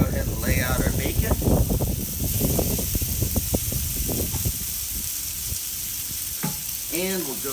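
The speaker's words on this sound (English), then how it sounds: "First off, we're just gonna go ahead and lay out our bacon." Bacon strips sizzle loudly on a Camp Chef flat top griddle, a dense crackling hiss with the clatter of strips being laid down, close and continuous while someone talks over it.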